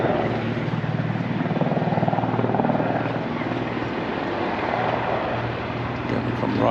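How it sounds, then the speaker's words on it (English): A low-flying helicopter passes over Magaluf, Mallorca, its loud rotor thudding and engine roar filling the air steadily and close throughout. "A low-flying helicopter coming round."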